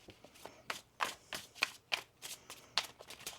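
Cards being shuffled in quick rhythmic riffles, a dozen soft flicking bursts, close and quiet.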